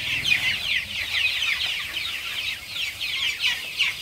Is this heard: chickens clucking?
yes